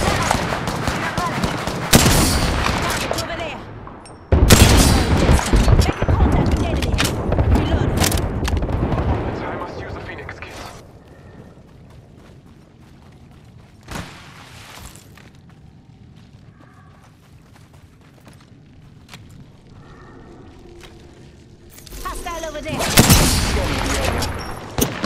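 Loud bursts of gunfire and explosions from an Apex Legends ranked match, with heavy volleys in the first ten seconds, a quieter stretch with scattered shots, and another loud burst near the end, joined by spoken character voice lines.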